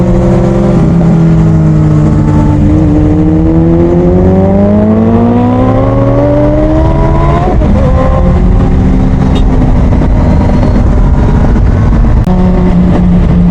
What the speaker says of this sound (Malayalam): വണ്ടിയുടെ സൗണ്ട് കേട്ടാ കാറിൽ ഇരിക്കുന്നവരെല്ലാം തിരിഞ്ഞ് നോക്കുവാണേ